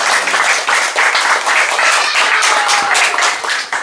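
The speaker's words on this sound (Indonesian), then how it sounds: "Mari kita tepuk tangan untuk beliau dan mereka." A church congregation claps enthusiastically, dense and loud applause sustained throughout, with no one speaking over it.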